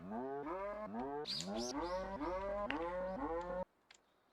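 A video-game cow in a deer simulator game moos repeatedly in long, loud, drawn-out lows, several calls in a row, then stops abruptly into near silence.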